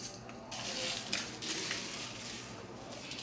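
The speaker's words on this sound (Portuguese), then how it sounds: "Vou pôr aqui na panela." Washed, fairly dry rice for temaki is tipped into a cooking pan, producing a soft, gritty rustling and clinking of grains against metal, steady and close for a few seconds with no talk.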